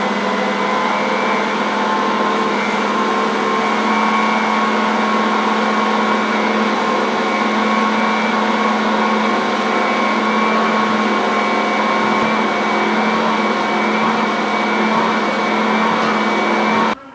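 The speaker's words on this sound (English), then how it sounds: "now this baby just needs to mix. I'm going to increase the speed just a little bit." Stand mixer kneading pizza dough, a loud steady motor whine with a constant buzzing drone running the whole time, the speed held level, no voices.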